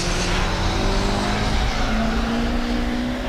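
Race cars run hard on a circuit as a Nissan Bluebird slides around the track, a loud continuous engine roar with tire scrubbing and a rising whine close by.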